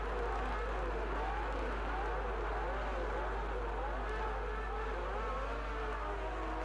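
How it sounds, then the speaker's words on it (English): Mid-1960s Grand Prix racing cars, including BRP BRMs, roll forward from the dummy grid to their starting places, a dense wash of many revving engines droning and wavering continuously at a moderate distance. "The cars rolled forward from the dummy grid to take their starting places."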